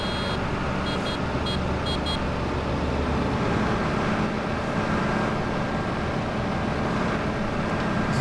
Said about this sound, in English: Stop hooting your horn.